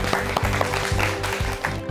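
A studio audience claps in a brief, steady burst of applause at a televised Korean election talk programme, the clapping dense and close.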